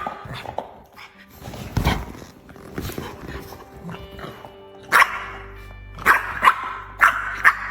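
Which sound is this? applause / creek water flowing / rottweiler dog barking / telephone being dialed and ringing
rottweiler dog barking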